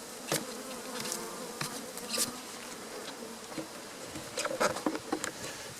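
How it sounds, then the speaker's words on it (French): Honeybees in a hive during a summer honey harvest buzz and hum up close, with scattered louder buzzes of individual bees passing near over a soft, steady background drone. "Ah, les abeilles, elles sont en dessous."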